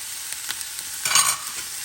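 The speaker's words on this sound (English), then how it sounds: "And we're just going to let those saute while we prepare the rest of our dish." Onions and peppers sauté in a hot pan for cheesesteak sliders, with a hissing sizzle that swells briefly midway under a few light utensil taps, close and moderately loud, without speech.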